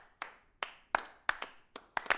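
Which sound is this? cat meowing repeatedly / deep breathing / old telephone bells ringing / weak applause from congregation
weak applause from congregation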